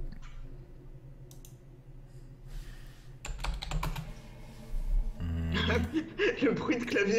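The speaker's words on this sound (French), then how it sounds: "le bruit de clavier que ça fait" Computer keyboard typing in the game Phantasmagoria 2: bursts of rapid key clicks, loud and close, alternating with someone talking and game sounds.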